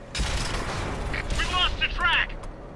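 Rapid gunfire from a tank in World of Tanks, a steady burst of loud shots with metallic booms rolling through the clip while a voice talks over it.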